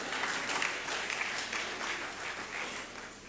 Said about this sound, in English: I will wait for you to applaud this